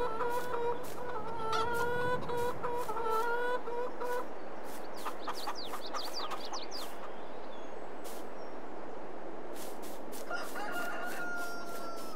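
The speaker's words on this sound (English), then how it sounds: "Got some chickens in." Chickens in the farming video game Farming Simulator 22, with repeated clucking and a rooster crowing several times, moderately loud over a soft steady background hum.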